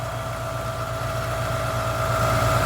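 A Ford Capri XR2 engine idles steadily nearby, a low continuous hum with faint rhythmic pulsing and slight vibration, running alone without any talk.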